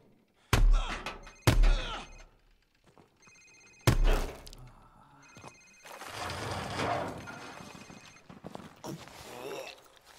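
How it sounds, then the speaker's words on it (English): A cell phone rings in Call of Duty Warzone, repeating a tone several times between heavy thumps and footsteps, with game characters talking over the later rings. "it's his cell phone"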